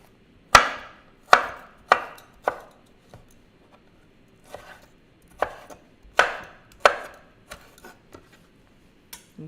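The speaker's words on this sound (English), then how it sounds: "just cut it into slices and then chop it up." A knife chops vegetable slices on a cutting board in a kitchen, about a dozen crisp, irregularly spaced knocks, several loud and close, others lighter, with quiet gaps between and no speech.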